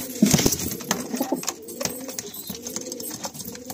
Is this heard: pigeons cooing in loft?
yes